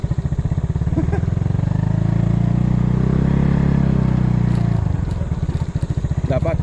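A motorcycle rides along a narrow rice paddy dike. The engine drones close and steady, swells to a loud peak midway, then drops to a rougher, sputtering putter near the end.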